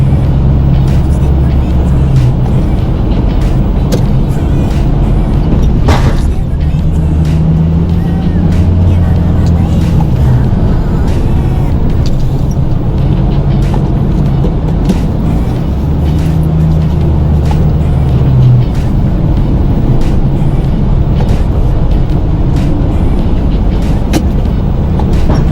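A pickup truck with a snow plow blade scooping snow in a March snowstorm, its engine droning low and constant throughout, with occasional scrapes and someone talking over it.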